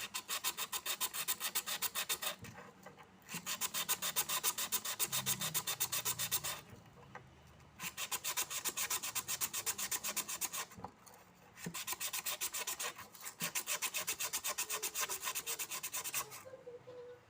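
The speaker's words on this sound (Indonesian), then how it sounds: "Saya menggunakan amplas kasar." Coarse sandpaper rasping steadily against a nail for a chemistry lab experiment, in long repeated bursts of strokes with brief pauses between runs, close and fairly loud.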